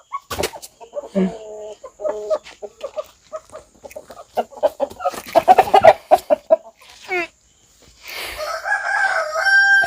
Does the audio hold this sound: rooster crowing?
yes